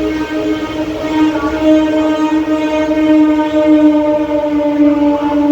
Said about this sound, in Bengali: ট্রেন এখন আমাদের চলেছে